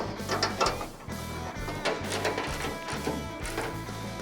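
Ratchet tightening bolts on an '89 K5 Blazer, rapid repeated clicking in quick bursts with short pauses between strokes, close and fairly quiet.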